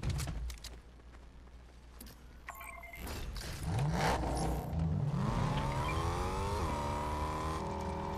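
A Fortnite vehicle engine rises in pitch as it revs up and accelerates, a steady mid-loud drone with climbing harmonics that holds toward the end, preceded by scrapes and clatter.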